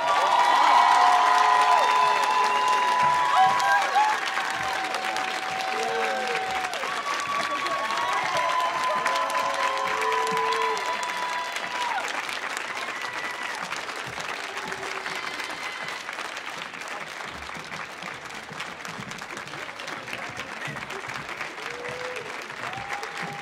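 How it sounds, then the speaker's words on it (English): Sustained applause from an audience at a youth poetry commencement on the Millennium Stage, honoring the 2024 National Youth Poet Laureate, with scattered cheers and whoops early on; the clapping stays loud and dense throughout, easing slightly toward the end. "please clap for Stephanie Pacheco."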